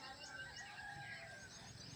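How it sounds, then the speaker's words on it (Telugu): Roosters crowing at dawn near a village house beside farm fields, faint and distant, several drawn-out calls blending with background birdsong over a steady outdoor hum. "అటు కోళ్ళు కూస్తున్నాయి."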